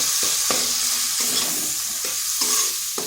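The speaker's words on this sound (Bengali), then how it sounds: "মশলাটাকে একটু কষে নিচ্ছি" Ground cumin, coriander and chili powder frying and being stirred in a pan, a constant sizzle with repeated scraping strokes of a spatula, close and with no voices.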